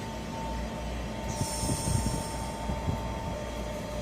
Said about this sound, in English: And now arriving is 465151 and something else on the rear